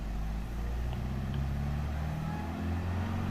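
Volkswagen Beetle engine in Gran Turismo Sport with sequential gearbox, a steady low droning hum that holds throughout, loud and continuous with slight shifts in pitch.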